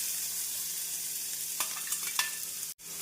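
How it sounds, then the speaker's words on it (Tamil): Onion and green chili sauté in hot oil in a kadai over a medium flame, a steady close sizzle with a few stirring scrapes and a brief sharp knock near the end. "வெங்காயம், பச்சை மிளகாய் சேர்த்து மீடியம் ஃப்ளேமில் 2 நிமிடம் வதக்க வேண்டும்."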